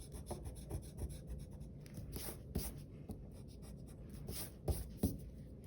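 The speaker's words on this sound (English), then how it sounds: "I'll erase that line." Pencil eraser rubbing back and forth on drawing paper while sketching a landscape hill, a soft continuous scrubbing with a few sharper strokes, close and quiet with no talk.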